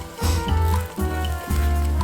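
Touton dough sizzles in a hot pan, a steady crackling hiss that swells in three waves over two seconds, close and fairly loud with no talking.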